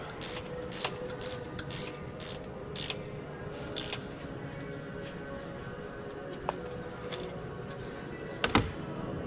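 A ratchet wrench turns bolts on a Cat 3406 engine during an exhaust, intercooler and turbocharger installation. Rapid bursts of clicking recur through the clip, with a louder metallic clunk near the end.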